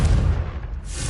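A Confringo blasting-spell explosion in Hogwarts Legacy: a loud, deep boom that swells at once, then fades into a rumbling low tail, heard alone with no voices.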